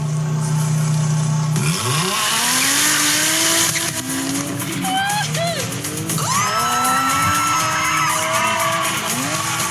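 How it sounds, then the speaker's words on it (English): A Jaguar F-Type sports car accelerates hard, its engine rising in pitch through gear changes with tire squeal, loud and continuous throughout, with some voice-like sound mixed in. "Are you ready to experience the power of Jaguar F-Type?"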